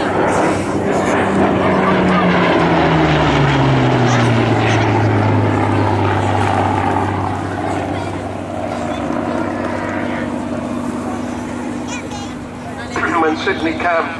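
Merlin-engined monoplane fighter flying at an airshow, its engine drone dropping in pitch as it passes and fades, heard under a commentator speaking over a public address.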